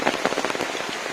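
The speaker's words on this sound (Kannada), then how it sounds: "ಒಟ್ಟು ಮಳೆ ಇದ್ದು ತೊಂದರೆ ಇಲ್ಲ" Monsoon downpour in coastal Karnataka drums steadily on nearby surfaces, a thick, constant patter with a few louder splats, heard alone at close range.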